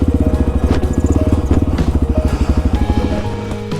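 Honda XR650L dual sport motorcycle riding through a dirt rut, its single-cylinder engine thumping in a fast, loud, close pulsing beat that eases slightly toward the end.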